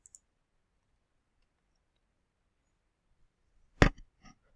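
A single sharp computer mouse click on a website search, close and crisp after near silence, then two smaller ticks right after.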